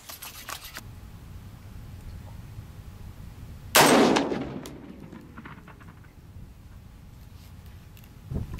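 A single loud, sharp shot from a Sig 716 rifle chambered in .308, fired at an outdoor range target, stands out from quiet background noise and rings briefly into a decaying echo.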